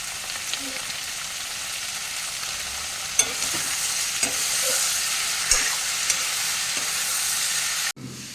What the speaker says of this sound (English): How long will you fry this?